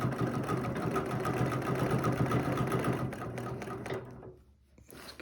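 A sewing machine runs at a fast, steady mechanical whir, stitching all the way around a design, then slows and stops near the end; close by, no talking.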